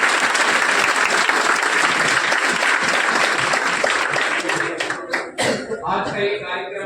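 An audience at a school principal and board honours ceremony applauds loudly and steadily as the district magistrate arrives. Dense clapping fills most of the clip, then thins out toward the end as voices emerge.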